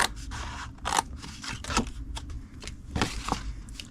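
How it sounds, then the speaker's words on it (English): Scissors snipping paper pieces off a pink Halloween treat box: several close, crisp cutting crunches in quick succession, each a sharp rasping snip, heard alone without talk. "We're just going to cut them right off."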